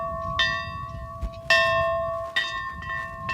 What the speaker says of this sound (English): The Hull family dinner bell.